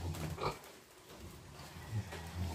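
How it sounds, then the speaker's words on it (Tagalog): A farm pig grunting in short, low bursts, three or four close snorts separated by brief pauses, with quiet background noise between them. "Yan po ang baboy ni Kapanalig na bentahin."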